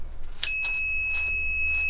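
A multimeter on continuity mode, probed across a retrofitted ignition switch, gives one short sharp beep followed by a steady high tone that holds to the end. Fainter soft clicks and handling noise sit underneath, with no talking.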